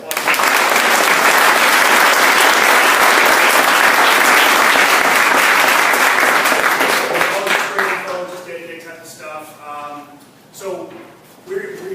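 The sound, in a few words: audience applause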